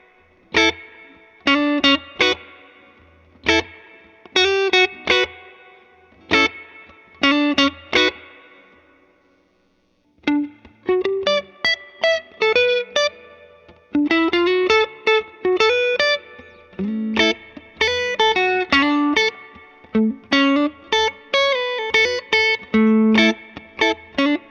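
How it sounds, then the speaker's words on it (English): Reggae electric guitar played through a Vox AC30 amp with amp reverb: short, choppy offbeat chord stabs in a steady rhythm, each decaying into a light reverb tail, with no voices. "let's just try it with a little bit of amp reverb from the Vox AC30"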